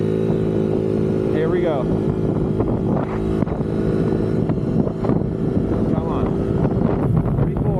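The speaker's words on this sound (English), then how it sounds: "It does bog slightly, I'd say at around a quarter throttle. Full speed run." A race moped engine held at full throttle during a speed run gives a loud, sustained buzzing drone with wind buffeting, while a rider speaks briefly over it.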